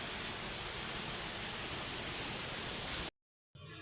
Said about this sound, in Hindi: अभी भी जो है बारिश नहीं रुकी है, बारिश जो है उतनी लगी है।